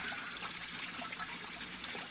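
Water trickling and splashing softly in a recirculating fountain, a radio drama sound effect, a steady light burble heard alone at low level.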